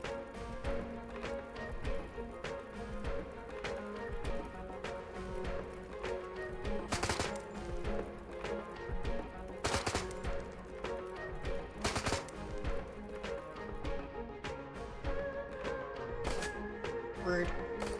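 Gunfire in the video game Shadowrun: Hong Kong, bursts of sharp shots and rattling volleys scattered over a busy game soundscape with music, several louder cracks standing out at intervals.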